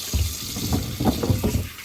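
Warm tap water runs and splashes into a sink as vegetables are rinsed, with a steady close stream broken by irregular splashes and knocks of produce under the flow.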